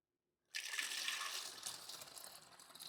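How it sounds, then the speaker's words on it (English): Water gushes steadily through a funnel into a bottle after a moment of silence, a continuous pouring stream that fades slightly as it goes on. "We're gonna get some water, some of this bleach water in here."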